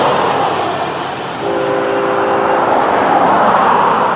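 Florida East Coast Railway train 105 passes close by with a loud, steady rumble of cars on rails and a short tonal horn-like note in the middle.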